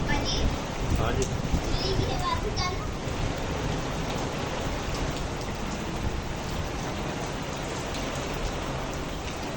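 Heavy village rain falls in a dense, steady hiss of drops on surfaces, filling the whole stretch at an even, loud level. Faint children's voices can be heard in the background.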